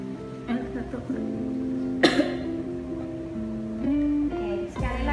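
A patient gives a single sharp cough during an effective-cough exercise for collecting sputum in a clinical setting, a brief burst amid soft background voices and room noise.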